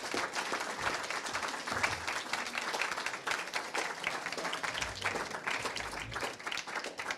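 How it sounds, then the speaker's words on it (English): Audience applause at a school district candidate forum, steady dense clapping from a crowd filling the room for about seven seconds with no talk over it. "Please feel free, audience, to clap for all the candidates."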